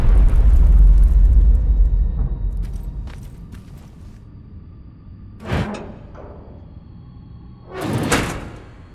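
A heavy door opens in the Terminator Resistance video game, starting with a loud low rumble that fades, followed by a couple of sharp mechanical clanks and hisses.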